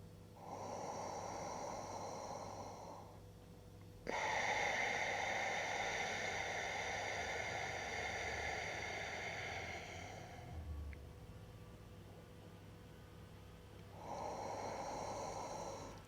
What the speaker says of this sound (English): So let's just do a few nice, really deep breaths here.